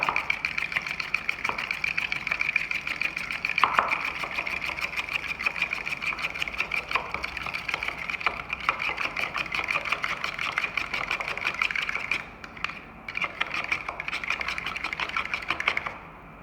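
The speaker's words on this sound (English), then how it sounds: "So break those yolks and give it a good whisk" Eggs are whisked in a bowl for a chicken wing crumbing mixture, a fast even clatter of the whisk against the bowl that carries on for a long stretch and briefly pauses near the end.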